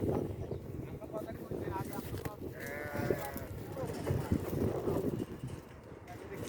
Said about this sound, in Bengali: এটি হলো আমাদের দেশি ছাগল।